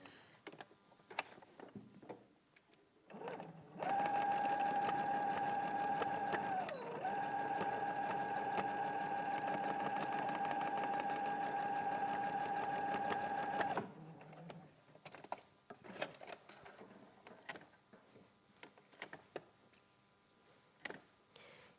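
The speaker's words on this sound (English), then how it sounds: "So I'm just going to sew over the top." A sewing machine runs a straight stitch in one steady, humming burst of about ten seconds with a brief dip in speed, preceded and followed by quiet clicks and handling sounds.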